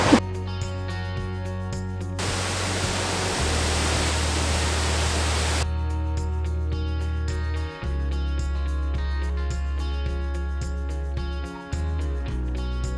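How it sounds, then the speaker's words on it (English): Waterfall at the end of a walk along the Great Alpine Road in Victoria, heard as a loud broadband roar that surges in for a few seconds over steady tonal humming, then drops away again. "this walk takes you right up to the edge of the waterfall. Listen to this."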